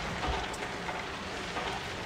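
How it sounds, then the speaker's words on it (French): Rain falling in a video game, a steady dense hiss of drops on surfaces filling the whole short stretch at even loudness, with no voices over it. "Ah non il pleut en fait."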